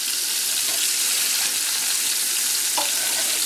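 Meatballs brown in a pan with a loud, continuous close-up sizzle that holds steady throughout, with faint clicks and shifts underneath.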